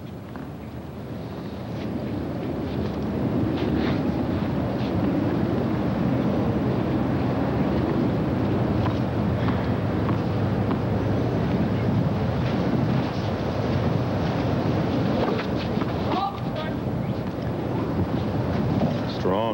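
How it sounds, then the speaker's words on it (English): Wind gusting across an outdoor tennis court during a 1989 Family Circle Cup semifinal, a steady broad roar of microphone buffeting that swells in after a quiet start and holds for the rest of the stretch, with no talk over it. "gust of wind, just as uh, Zvereva made her toss"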